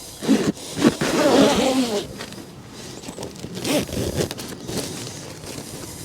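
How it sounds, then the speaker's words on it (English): A zipper is pulled on a fabric garden frost cover draped over a vertical planter on a front porch, giving several scratchy zipping strokes close by, with rustling between them. "And zip it up."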